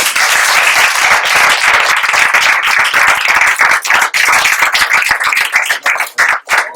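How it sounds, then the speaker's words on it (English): A room of people at a school board meeting gives a round of applause, close and loud, with sharp individual claps that thin out and become ragged toward the end. "A round of applause."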